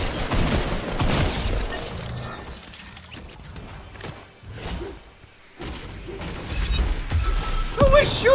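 Rocket-propelled grenades fired in a Fortnite ranked match, heard as a busy run of whooshing launches, shattering blasts and mechanical clatter from the game, with loud bursts near the start and again near the end and a quieter dip in between.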